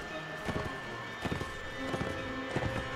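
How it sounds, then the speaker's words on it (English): Horses gallop in the video game Mount and Blade Warband, a steady run of rhythmic clip-clop hoofbeats at moderate volume over a constant background din of battle. "Stray horses."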